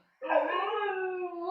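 Dogs let out a single sustained howl nearby, starting suddenly and holding a steady wavering tone for over a second, loud and clear with no talking over it.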